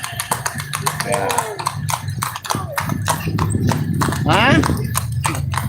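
A horse pulling a bendi carriage near Jam Gadang, hooves clip-clopping in a quick, steady rhythm close by, with a brief whinny, while people talk continuously over the hoofbeats.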